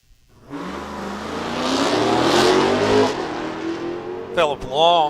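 A Hellcat car launches on a drag strip time run, its engine swelling from quiet into a loud, rising roar that holds and then pulses as it pulls away, with a brief burst of voice near the end.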